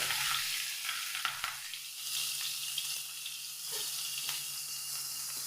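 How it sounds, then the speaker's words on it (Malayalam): Carrot, onion, ginger, curry leaves and green chilli sauté in a pan with a soft, steady sizzle and light scraping stirs, quiet and close, with no one talking. "ഇത്രയും ചേർത്ത് നമുക്ക് നല്ല പോലെ ഒന്ന് വഴറ്റിയെടുക്കാം"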